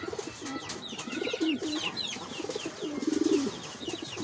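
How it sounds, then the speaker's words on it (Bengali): Pigeons coo repeatedly in soft, rolling bursts from a nearby loft, with some faint higher bird chirps mixed in and no talk. "এই কবুতরটা"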